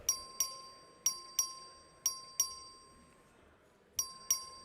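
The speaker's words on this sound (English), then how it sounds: "The clerk will ring the bell." A bell rung by the clerk in a legislative chamber to call a record vote sounds as a series of sharp dings, struck singly and in quick pairs with short decays, alone with no talking.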